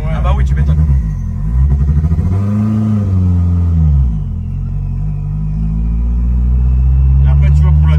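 Renault 5 Turbo engine cranking and catching with difficulty, a loud low rumble rising and falling in pitch, revving up then settling into an uneven idle, with people talking over it.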